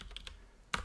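Keystrokes on a computer keyboard as a Unix command is typed: a few soft, separate taps near the start, a pause, then a louder closing key press, close and alone.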